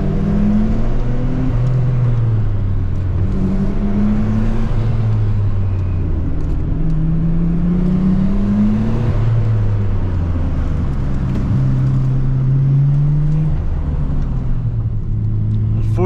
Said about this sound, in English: We're gonna be following the Spoon FK8, which is gonna be really awesome.